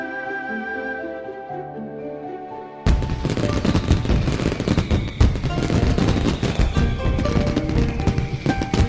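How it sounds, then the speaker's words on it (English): Fireworks in the Snowbreak video game, including Gatling-style rapid bursts, erupt suddenly after a calm musical passage into a loud, dense stream of crackling pops and booms that continues without pause. "They're lighting all my fireworks without me!"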